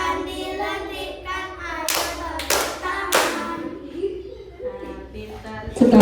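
Children in a classroom clap their hands together on a teacher's cue, a few loud sharp claps in a quick cluster amid singing and talking voices.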